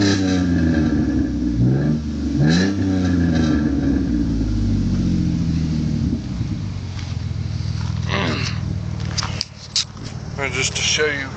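A Dodge Intrepid engine with a Cherry Bomb Pro Series muffler revs up and down several times, loud and close, with a steady idle rumble between bursts.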